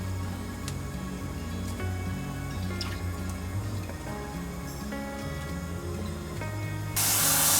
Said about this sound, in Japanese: 1分半ほど茹でたらお湯から出して水洗いしておきます。